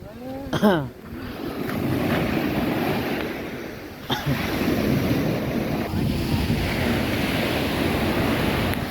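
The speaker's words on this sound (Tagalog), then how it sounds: "lakas ng alon no" Ocean waves rush and wash against a seaside boulevard in a continuous loud surge, mixed with gusty wind buffeting the microphone, after a brief squeaky sound at the start.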